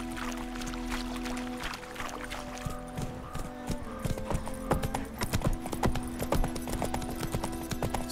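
Hooves of the horse in The Witcher 3 video game, a rhythmic clip-clop gallop that grows denser and louder, over a low sustained ambient tone.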